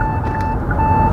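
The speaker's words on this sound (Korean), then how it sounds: "깜빡이를 키면은, 네, 옆차를 감지해서 경보음을 나타낸다거나" A Kia EV6's blind-spot warning sounds when the turn signal is on and a car is alongside: a loud, steady electronic beep tone lasting about a second, heard close inside the cabin.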